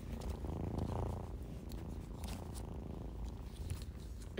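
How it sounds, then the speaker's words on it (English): Two cats purring close by, a steady low rumbling with soft rhythmic pulses, continuous throughout with no talking. "Can you hear that both of them are purring?"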